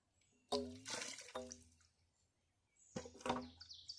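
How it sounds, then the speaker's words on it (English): Water splashes down into a narrow well pipe twice, each time with a hollow, echoing gurgle, separated by a quiet pause. "That's water going in this pipe."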